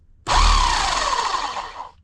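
A Bauer 11 amp SDS-max rotary hammer drill starts abruptly and runs loud and close in one steady burst of about two seconds, with a harsh buzzing whine that dips slightly before cutting off.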